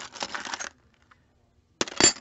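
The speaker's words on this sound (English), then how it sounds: "So that was a bunch of keys" A bunch of metal keys, including a suitcase key, jingles and clinks as it is handled up close, in two short bursts separated by a quiet pause.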